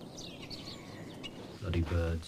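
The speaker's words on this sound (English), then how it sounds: "Bloody birds." Small birds chirp faintly in a few short, thin calls over quiet background noise, then a louder voice cuts in near the end.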